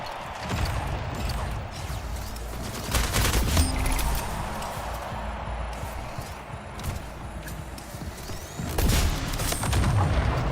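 Rapid gunfire from the video game Splitgate rattles almost continuously as a dense fusillade, with heavier bursts near the start and end and a faint voice under the action.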